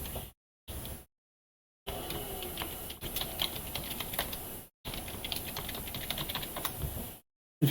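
Rapid keystrokes on a computer keyboard while entering commands in a Linux terminal on Ubuntu Studio 20.04, close and clear in several bursts separated by brief silences.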